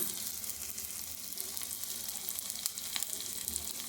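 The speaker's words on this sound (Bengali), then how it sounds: "পেঁয়াজ কুচোনো, রসুন আর লঙ্কাটা দিয়ে একটু জাস্ট নাড়াচাড়া করে নিচ্ছি" Chopped onion, garlic and chili sizzle in hot oil while being stirred, a dense, close crackle with light scraping throughout and no voices.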